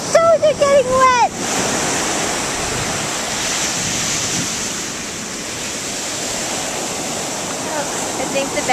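Ocean waves wash onto a beach in a steady, loud roar of surf with wind noise on the microphone, after a brief opening burst of excited voices.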